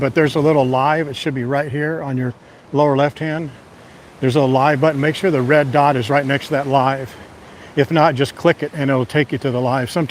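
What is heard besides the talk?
No everyday noise stands out behind the speech.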